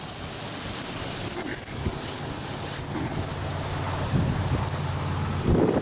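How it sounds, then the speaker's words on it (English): Strong wind blows hard across an open outdoor site near an old dragline excavator, a steady, loud, rushing roar that buffets the microphone and never lets up, with no voices heard. "Wind's blowing hard now."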